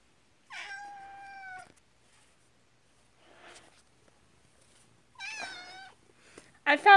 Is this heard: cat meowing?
yes